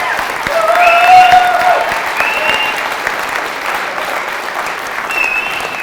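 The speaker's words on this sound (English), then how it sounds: "we all need to give a massive round of applause" A loud, sustained round of applause from an audience at a Winter Wainwrights Q&A swells early, then holds steady as a dense wash of clapping, with a few whistles cutting through near the start and near the end.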